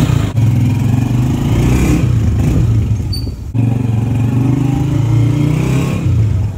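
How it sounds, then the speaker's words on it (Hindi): Motorcycle engine starting and revving close by, a loud rough mid-pitched rumble with a few throttle swells and a brief dip midway, no talking. "चल असद स्टार्ट कर बाइक"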